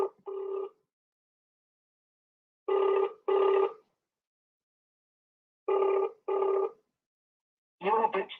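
An outgoing telephone call rings back in paired bursts, two rings, a pause, two more, repeating at an even rhythm, clear and isolated against silence.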